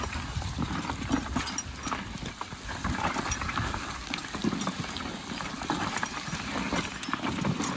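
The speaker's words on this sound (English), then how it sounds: "Plowing's awful good work for young horses." A pair of young draft horses plowing a field: hooves clop steadily on soft ground, a continuous plodding rhythm with a rumbling outdoor background and no talking.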